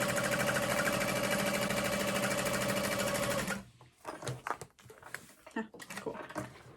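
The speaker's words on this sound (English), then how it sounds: "And then I'm going to baste it on the other sides." A sewing machine bastes fabric for a barrel bag in a fast, steady loud whir for a few seconds, then stops, leaving quiet handling sounds of the fabric.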